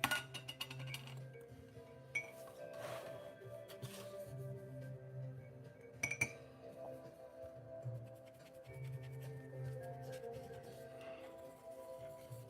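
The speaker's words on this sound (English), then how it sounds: "rinse out this dry brush here" A paint brush is rinsed in a glass water jar, giving light clinks and taps of glass with soft swishing. The sounds are close and scattered, with faint background tones.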